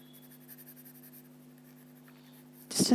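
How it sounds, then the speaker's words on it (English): A graphite pencil scratches softly across paper in faint, continuous strokes over a low steady hum, ending in a brief louder rustle. "I'm just going with the normal graphite pencil here."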